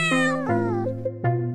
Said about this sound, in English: our neighbor Mrs. Benson had this mean old cat called Pancake